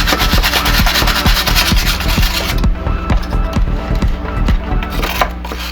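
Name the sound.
wire brush scrubbing 3D-printed HIPS filament skull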